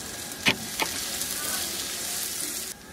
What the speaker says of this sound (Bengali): পেঁয়াজটা একটু লালচে লালচে করে ভাজতে হবে।